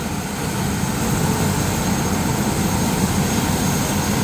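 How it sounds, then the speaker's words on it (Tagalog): A police helicopter at Camp Crame spooling up for takeoff, its engine and rotors making a loud, steady, broadband whine and roar that holds constant throughout, close by and without talk. "Lilipad na ang helicopter."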